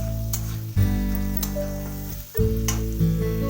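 Spice masala for lentil dal (musurer dal vuna) fries in a pan with a steady close sizzle. A loud low hum drones over most of it and drops out twice, and a few faint ticks or stirring taps are heard.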